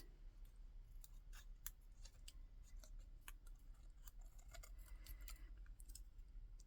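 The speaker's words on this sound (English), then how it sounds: "I'm going to have a go at just cutting away these top areas" Scissors snip through die-cut paper pieces in a quiet, irregular series of small crisp cuts over a low background hum, close by with no talking.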